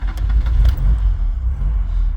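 A 1981 Ford Cortina Mk5 with its 1.6 Pinto engine runs at a steady idle, a loud, even low rumble that holds without gaps for a couple of seconds.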